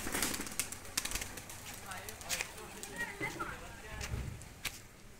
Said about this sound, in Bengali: আমার কবুতরগুলো অনেকটাই ক্ষুধা লাগছে, আমি ওদেরকে একটু খাইতে দেবো।